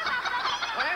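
A crowd of children imitates a hen or chicken, producing overlapping clucking sounds in a concert hall, a busy layered chorus of voices with no speech.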